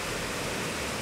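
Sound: river flowing near a waterfall

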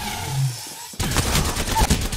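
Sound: Alternator gunfire in the video game Apex Legends

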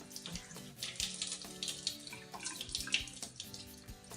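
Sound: water from a tap while wetting the face

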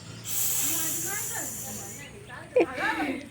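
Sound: child imitating snake hiss

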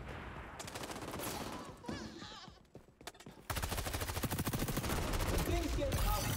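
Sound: gunfire with flaming bullets in a video game

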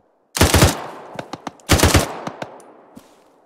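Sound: gunfire in a military video game

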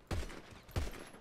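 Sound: gunfire from a heavy weapon in video game GTA 5

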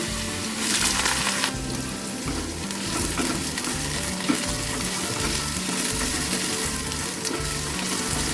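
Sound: diced potatoes frying in mustard oil in a wok

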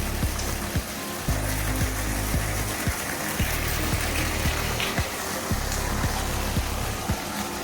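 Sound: water flowing into well on farm

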